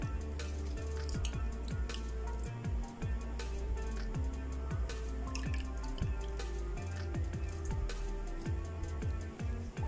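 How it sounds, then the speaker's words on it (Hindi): Repeated wet drips and squishing as lemon juice is squeezed into a bowl of shampoo water for a hand soak, a close, irregular series of drops and squelches over a quiet background. "उसके बाद हम इसमें 1 लेमन वो डालेंगे, लेमन जूस।"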